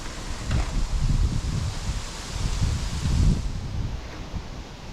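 Steady wind gusts through foliage, with rustling leaves swelling and easing over a constant breezy roar.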